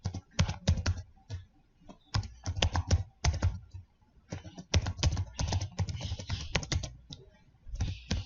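Typing on a computer keyboard, as when entering a password: quick bursts of close, crisp key clicks with short pauses between runs, alone without talk.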